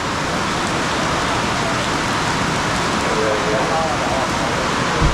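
Heavy rain pours down at the start of a three-day round-Taiwan cycling race, a dense, loud, unbroken roar with a faint murmur of people underneath.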